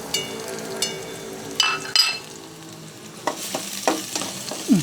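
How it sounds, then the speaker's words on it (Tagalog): Onion, garlic and ginger sautéing with mussels in a pan, a steady close sizzle broken by bursts of stirring and spoon scrapes, with no talking. "Lagyan na natin sa sibuyas, bawang, luya."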